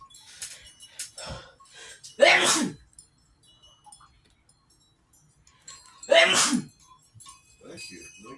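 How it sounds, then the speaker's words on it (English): Two sharp, loud sneezes burst out indoors in a house, about four seconds apart, with quieter conversational talk before, between and after them. "I hate sneezing like this when I'm in this house"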